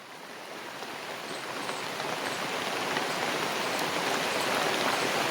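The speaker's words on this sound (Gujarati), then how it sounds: "તો મિત્રો વરસાદ ચાલુ થઈ ગયો" Steady rain pours down in a village, a dense, even hiss of drops on surfaces that slowly grows a little louder, with no voices.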